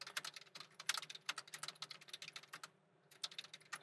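Quick, steady typing on a computer keyboard entering input into an OCaml REPL, crisp close clicks in irregular bursts with a short pause near the end, no voice.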